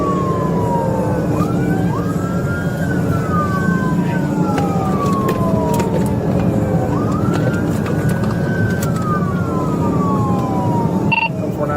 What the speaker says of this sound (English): Officers activated their sirens and emergency lights, signaling the driver to stop, hoping he would surrender peacefully.